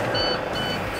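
A tractor-trailer truck emits high reversing beeps, two evenly spaced tones over loud engine rumble and cab noise.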